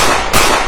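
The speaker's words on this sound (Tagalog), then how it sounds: "Nasundan pa to ng ilang putok." A single sharp, loud gunshot-like crack in a horror story, standing out against dense constant noise in a brief burst.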